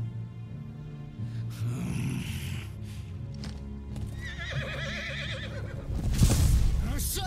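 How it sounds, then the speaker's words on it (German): Horses in the Final Fantasy XVI video game give a loud, wavering whinny with rhythmic clip-clop hooves and heavy snorting, set over a dense game soundscape that swells toward the end. "Das Ding hat auch 6 Pferde, aber hatte Odins Pferd nicht 8 Hufe"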